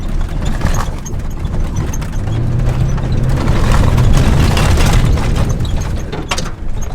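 A 7.3 diesel pickup truck off-roading drives through a puddle, its loud, rumbling engine steady throughout, with rough splashing and rattling noise layered over it and no talking.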